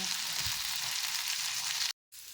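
Masala-coated fish fries in a pan with a steady, close crackling sizzle that cuts out briefly near the end before resuming, with no talking.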